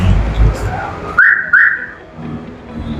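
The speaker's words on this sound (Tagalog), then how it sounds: "And also, may alarm na rin po siya." Alarm on a 2025 Mitsubishi Montero Sport GLS AT gives two short, loud chirps in quick succession over a dull background rumble.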